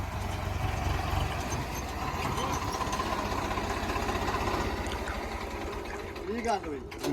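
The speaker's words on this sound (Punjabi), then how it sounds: "ਇਹ ਤਾਂ ਸਾਹਮਣੇ ਆ ਗਿਆ ਟਰੈਕਟਰ ਆ ਗਿਆ" A tractor engine drones steadily close by throughout, chugging with a rattling mechanical texture and a low rumble, fading slightly near the end, during the crop harvest in Punjab.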